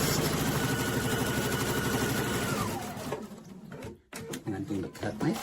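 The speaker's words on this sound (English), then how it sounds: "Now I'm going to slide in here, and I'm going to sew the next." An embroidery sewing machine stitches a quilt design with a fast, steady mechanical rattle for about three seconds, then stops, leaving quieter handling noises and a voice speaking nearby.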